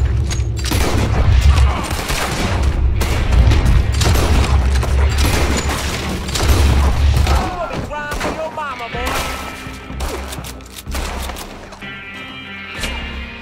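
Gunfire in the Western video game Red Dead Redemption 2 during a shootout: loud, dense booming shots and thuds fill the first seconds, with sparser bangs later, under excited talk.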